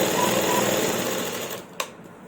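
A sewing machine stitches a kameez with a rapid, close mechanical whir that runs steadily, then stops abruptly, followed by a single sharp click.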